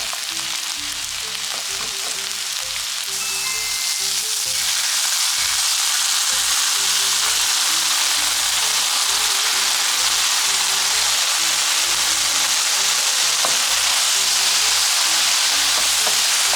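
Frozen eggplant stir-fries in a pan with a loud, dense, hissing sizzle that stays constant throughout, with light music underneath.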